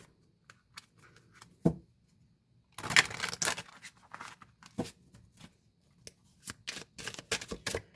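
Soft riffling and flicking of tarot cards in a cramped space, in scattered bursts with a denser shuffle in the middle, close and fairly quiet with no talking.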